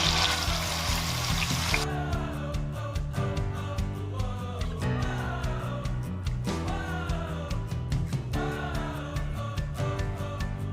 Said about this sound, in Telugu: నెయ్యి వేడెక్కిన తర్వాత పైనాపిల్ ముక్కలు వేసి కొద్దిగా లైట్గా రోస్ట్ చేసుకోవాలి